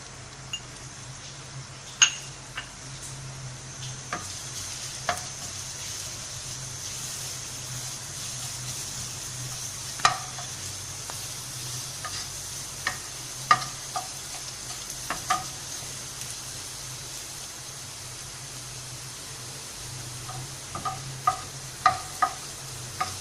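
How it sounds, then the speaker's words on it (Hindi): Chopped garlic frying in hot oil in a pan while making a stovetop chicken tikka pizza, giving a steady soft sizzle with scattered sharp clicks and stirring clinks, no talking. "अब हम इसमें चॉप किया हुआ लहसुन डाल रहे हैं।"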